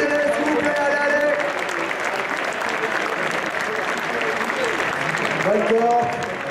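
A crowd applauds the players at the Stunfest 2014 Super Street Fighter 2X solo finals, sustained clapping throughout with faint voices and cheers rising near the end.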